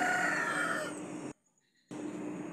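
Ekor Lidi ornamental rooster crowing, one loud drawn-out call that breaks off into a short silence before the surrounding noise returns.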